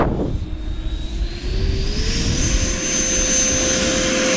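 An RC L-39 jet with a 105mm ducted fan on 12S power spools up and takes off from a grass field, a loud rising whine that climbs steadily in pitch and holds strong and continuous throughout.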